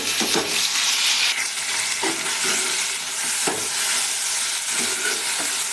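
Finely chopped tomato hitting hot oil and masala in a pan, a steady loud sizzle with a few sharp stirring scrapes at intervals, no voices.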